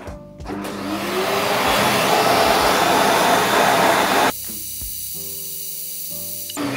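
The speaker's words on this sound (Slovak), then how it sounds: "Na to tiež treba vysávať." A vacuum cleaner sucks dust out of an old 14-year-old laptop, a loud, close, steady roaring hiss that runs for several seconds before cutting off, followed by quieter intermittent sounds.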